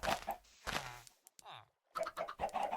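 Chickens clucking in the video game Minecraft: a few short, soft clucks surface between stretches of someone talking over the gameplay.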